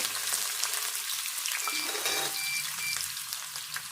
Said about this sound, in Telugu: తాలింపు వేగంగానే ఉల్లిపాయలు అయితే వేసుకోవాలి